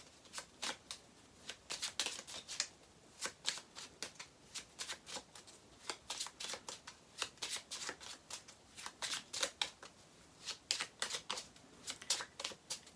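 Tarot cards shuffled during a reading, a quiet, steady run of crisp papery riffles and flicks repeating in quick bursts throughout, with no talk.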